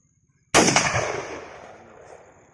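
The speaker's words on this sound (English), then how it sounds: "The great hunter's first shots of M4 with the Trijicon sight" A single loud, close M4 rifle gunshot at target practice, a sharp crack followed by a long, fading echo rolling across open ground.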